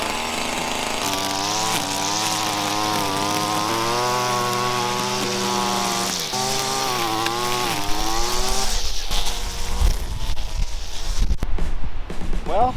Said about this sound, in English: for my first time running a weed whacker, I'm pretty good at it